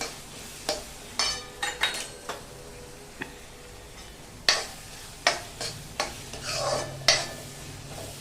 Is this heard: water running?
no